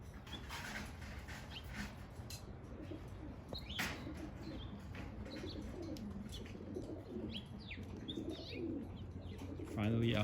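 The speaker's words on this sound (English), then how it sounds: "these are my 2021 racing pigeons" Racing pigeons cooing softly at a loft, low murmuring coos and faint chirps with the odd brief flutter of wings, and a louder burst of cooing near the end.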